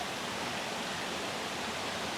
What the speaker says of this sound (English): There's a little tiny waterfall spitting out over here.